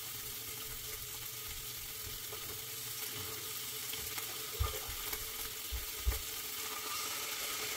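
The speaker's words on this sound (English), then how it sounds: "so I'm gonna add some water" Water poured into a pan of sizzling shrimp stir fry with heads on, a steady frying hiss with a few soft splashes and bursts partway through, close and fairly quiet, with no voices.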